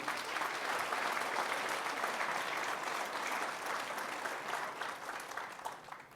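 Sustained applause from an audience at a New Year's greetings ceremony, a steady, fairly distant wash of many hands clapping that tapers slightly toward the end.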